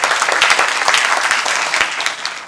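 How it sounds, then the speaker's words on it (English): An audience at a symposium applauds as a speaker is welcomed, a dense, continuous patter of many hands clapping, loud and close, with no talking. "may I welcome, with a round of applause, Sandeep Ranade."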